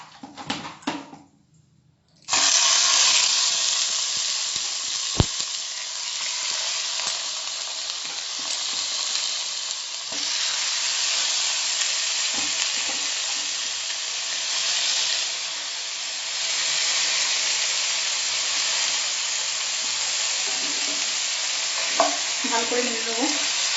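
Chicken pieces dropped into melted ghee for nihari, bursting into a loud sustained sizzle after a quiet start, frying steadily at close range with brief stirring clatters near the end.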